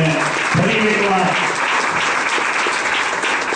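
Devotees at a Shikshapatri Jayanti festival clap together in a loud, sustained burst of applause, with a voice briefly audible at the start.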